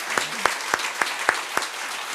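Church congregation clapping in unison at a Sunday worship service, six sharp, evenly spaced claps about a quarter second apart, loud and close, with no talking over them.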